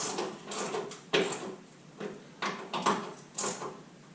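An Edsel car door being fitted and shut gives a series of separate clunks and knocks, roughly one every half second, close by in a quiet workshop.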